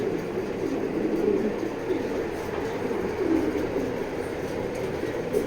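Racing pigeons in a loft give a steady, low murmur of cooing that fills the background continuously, with no clear speech over it.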